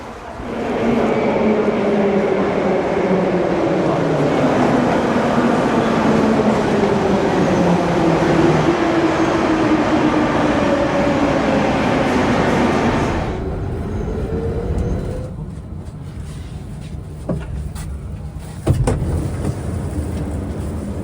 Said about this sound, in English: Let's check out the metro of Minsk.